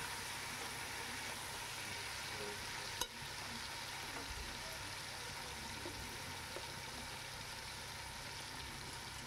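Faint, steady scraping and sizzling as khichuri is stirred in a pot, a soft continuous texture with one sharp knock of the spoon against the pot partway through.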